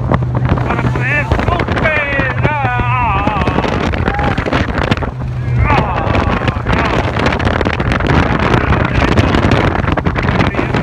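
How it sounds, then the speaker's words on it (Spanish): A twin-engine speedboat runs at full throttle on the river at Iguazu Falls, its engines a loud constant roar mixed with wind and water rush, with people shouting and talking over it. "Los dos motores al máximo rendimiento"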